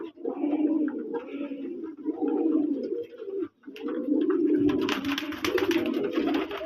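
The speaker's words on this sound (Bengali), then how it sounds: "ভালো লাগার জিনিস আমার লফটের কবুতর দেশি কালারিং রাজগোল্লা" Domestic desi coloured pigeons coo in a loft on a pigeon farm in Manikganj. Their deep, continuous overlapping calls are close and loud, with soft rustling and wing movement toward the end.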